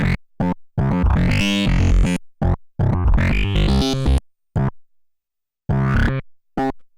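A swung bass line programmed on a Polyend Tracker plays alone as a sequence of short, punchy pitched notes in a bouncing rhythm, with a few gaps between phrases.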